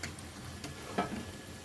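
Punugulu fritters made from idli batter frying in oil, a faint, steady sizzle with a couple of soft ticks and clinks, with no voices.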